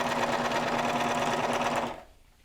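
A sewing machine runs a fast, steady stitching burst along a garment's lower edge, close and even, then stops abruptly near the end, leaving quiet room tone.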